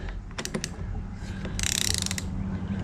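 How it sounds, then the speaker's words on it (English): A ratchet wrench tightens the mounting nut on a winch set beside a vehicle bumper, its clicks coming in quick repeated bursts, first a few sharp ticks and then a dense rapid run, close and fairly loud. "And we torque our nut."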